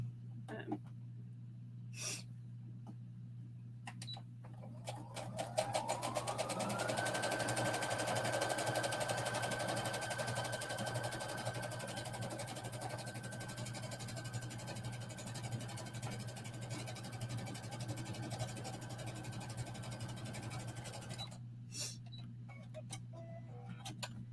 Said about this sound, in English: And then we're just going to sew right on the hem.